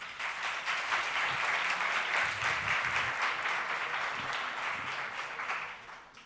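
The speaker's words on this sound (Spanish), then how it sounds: "Un aplauso, por favor" Audience applause at a Spanish academic physics lecture, a dense, even roar of many clapping hands sustained throughout, moderately distant with no talk over it.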